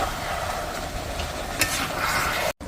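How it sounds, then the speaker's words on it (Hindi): Salted chicken with masala is stirred in a pot, a low continuous sizzle with a scraping stir and a brief click, then a momentary gap near the end, with no talking. "अब मैं इसको हिला दूंगा थोड़ा सा कि इसका मसाला मिक्स हो जाए गोश्त में।"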